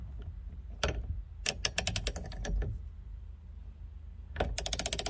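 A nut being torqued onto a Momo steering wheel quick-release hub adapter in a 300ZX V8 swap: close, sharp metallic ratchet clicks come in quick bursts, separated by short pauses, with no talking.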